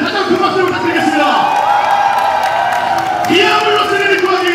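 A large crowd cheers and claps, a loud sustained roar of voices with whoops and shouts rising and falling together.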